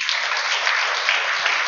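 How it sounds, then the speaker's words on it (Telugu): An audience at a church training programme claps together, a dense continuous patter of applause throughout. "అర్థమైన వాళ్ళు క్లాప్స్ కొట్టాలా,"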